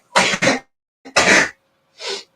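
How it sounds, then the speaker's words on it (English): A person sneezes into a face mask: two quick bursts, a louder muffled one, then a softer final sneeze, close and without talk. "I sneezed in my mask."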